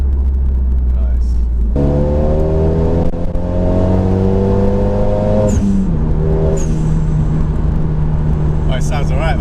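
A turbocharged Renault Megane RS 250 Cup Lux Edition tuned to 310 bhp revs hard nearby, its engine note climbing and then dropping back, with voices talking over the steady drone.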